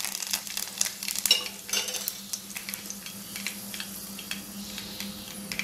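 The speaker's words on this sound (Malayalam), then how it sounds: "നമുക്ക് കറിവേപ്പിലയും വറ്റൽമുളകും കൂടി ചേർത്ത് കൊടുക്കാം." Curry leaves and dried red chillies splutter in hot oil with mustard seeds and browning urad dal, a steady sizzle broken by sharp crackles and a few spoon scrapes early on.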